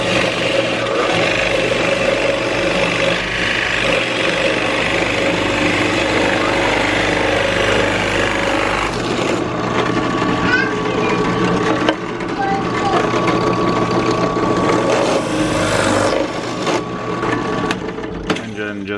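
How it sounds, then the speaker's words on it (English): A small drill press bores a 1 3/8 inch hole through wood for a curtain rod holder, a steady loud motor whine with grinding bit noise running continuously throughout. "It's one of the coolest things I've got in the shops is this little tiny drill press."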